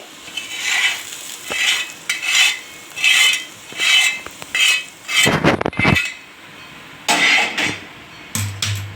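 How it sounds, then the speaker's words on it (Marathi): Spoon scraping and clinking against a pan while roasted eggplant bharit with red chili powder is mixed, in repeated rhythmic bursts of metallic stirring, close and fairly loud, with a few heavier knocks near the end. "हे छान मिक्स करूया।"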